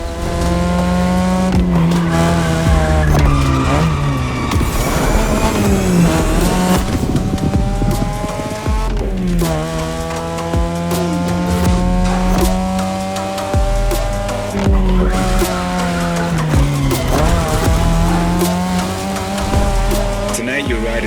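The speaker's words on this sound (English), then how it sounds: "Tonight your ride is a 3rd Gen 2002 Mazda RX-7. Lightweight, compact, a sick rotary engine" A 2002 third-generation Mazda RX-7 with a rotary engine howls at high revs in The Crew Motorfest racing game, tires squealing through repeated drifts as the engine rises and falls in pitch, loud and continuous, with a voice talking throughout.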